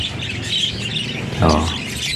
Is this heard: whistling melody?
no